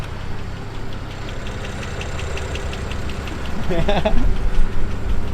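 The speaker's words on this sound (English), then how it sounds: "Listen to the rod knock. N54." An idling N54 car engine with rod knock gives off a steady, regular ticking knock over its low rumble, and a voice briefly cuts in near the end.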